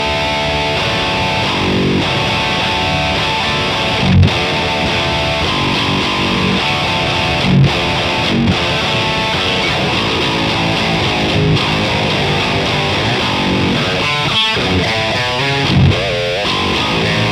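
Distorted electric guitar played through a Kemper Profiler loaded with a Replicant Audio profile, a thick, loud sustained tone with chugging chords and riffs lasting throughout, with no voices.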